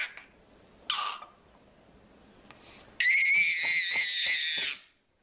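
A baby squeals and screams in pre-linguistic vocalizing: a short high shriek, a quiet stretch, then a long loud piercing squeal that wavers in pitch before stopping.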